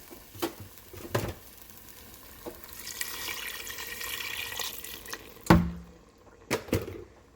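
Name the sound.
stirring Instant Pot veg haleem after adding water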